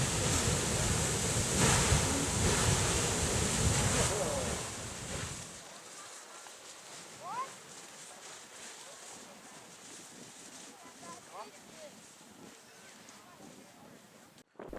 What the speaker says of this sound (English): The Grand Geyser is erupting.